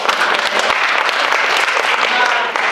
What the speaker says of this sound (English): If we could get a round of applause for our panel.